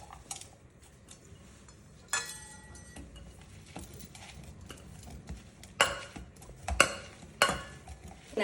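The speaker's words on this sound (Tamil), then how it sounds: "அதையும் இதோடு போட்டு நல்லா ஸ்மாஷ் பண்ணணும்." Boiled potatoes with garam masala and spices for a beetroot cutlet are pressed and mashed in a bowl, giving soft squishy pats with a few sharper clinks of utensil on the vessel, fairly quiet and close.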